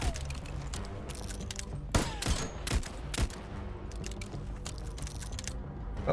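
Gunfire in the video game Void Train: a few sharp shot bursts around the middle, loud over steady game music and ambience.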